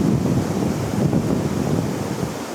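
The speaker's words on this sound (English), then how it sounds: "Really, really loving this waterfall here." Autumn waterfall rushing in a steady, dense roar close by, broad and continuous with no pauses.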